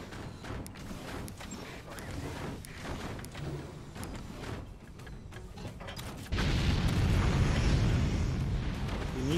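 Repeated howitzer shell explosions in the Forts strategy game, a dense run of rumbling booms that swells into a louder, continuous roar of blasts partway through.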